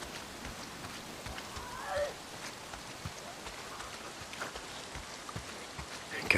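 Rain falls steadily in the video game Days Gone as an even, soft hiss with scattered faint patters and no break.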